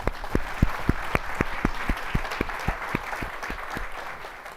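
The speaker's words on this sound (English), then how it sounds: "So please join me in applauding their efforts." An audience at a diversity conference applauds steadily for several seconds, a broad wash of clapping with a few sharp, distinct claps standing out close by before it gradually eases.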